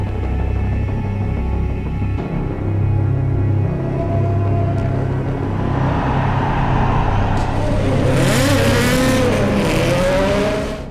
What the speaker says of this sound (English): With the race starting and the safety car getting out of the way